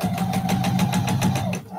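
A sewing machine stitches a leader before a quilt block, a close, steady rapid chatter of needle strokes that stops abruptly near the end.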